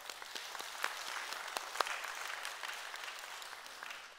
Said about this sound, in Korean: 이것도 하나의 영광의 박수.